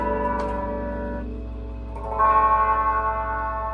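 Electric guitar through a Fender Frontman amp with a very mid-heavy, boxy tone, a few notes and chords ringing with echo and reverb, then a louder sustained chord near the end.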